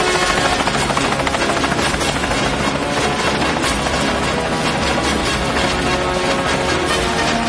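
Loud, continuous helicopter rotor chop and turbine roar fill the air in a steady wash, as if the aircraft are close by and hovering into position.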